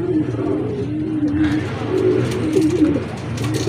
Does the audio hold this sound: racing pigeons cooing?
yes